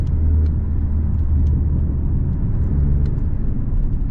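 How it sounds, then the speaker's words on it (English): Steady low rumble of road and tire noise fills the cabin of a 2023 Porsche 718 Boxster base model with its turbocharged four-cylinder, driving with the soft top up, continuous and fairly loud with no talking. "Interior noise is manageable with the top up."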